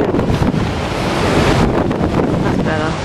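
Outdoor water waves wash in with a loud, continuous rush of surf, heavy wind buffeting the microphone throughout.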